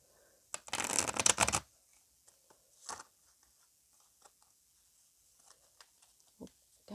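Tarot cards riffle-shuffled in one loud, close burst lasting about a second, followed by quieter taps and soft handling sounds of the deck in an otherwise quiet room.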